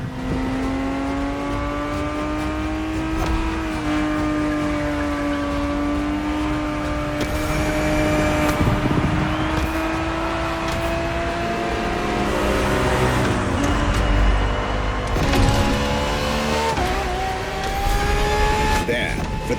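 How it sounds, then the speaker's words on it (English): Ferrari 365 GTB4 from the 1970s racing in The Crew Motorfest, its engine note holding steady and rising through gear changes at a constant loud level, with talk running over much of it. "The Ferrari 365 GTB4 is the perfect vehicle for you to experience Ferrari racing as it felt back in the 70s"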